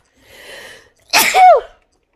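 A single loud sneeze up close, with a sharp burst and a trailing exhale, preceded by a soft breathy intake.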